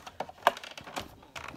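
A crank is turned on a paper-crimping tool while making a pop-up card, giving a series of irregular small clicks and ticks, quiet and close.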